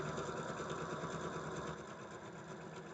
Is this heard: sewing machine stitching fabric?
yes